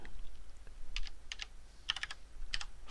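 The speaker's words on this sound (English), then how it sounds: "the way you would do that is you would type" Several quick clicks on a computer keyboard entering a Linux command, in small scattered clusters of keystrokes with short pauses, close and quiet over faint room hum.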